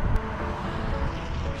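An electric car pulls away with passengers aboard, giving a steady low road and tyre rumble with faint motor whine, close and continuous with no engine roar.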